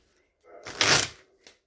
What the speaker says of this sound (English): shuffle is always so reassuring too